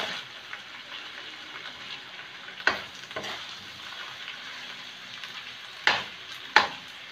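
Onion sizzling steadily in a hot pan for a home-cooked pork and chayote sauté, a continuous frying hiss broken by three sharp clatters of a utensil against the pan.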